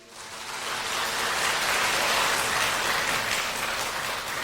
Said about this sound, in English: Let us give a warm round of applause to welcome Khenpo's